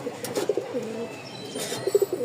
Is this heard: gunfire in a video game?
no